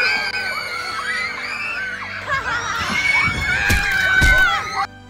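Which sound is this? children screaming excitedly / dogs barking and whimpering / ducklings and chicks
children screaming excitedly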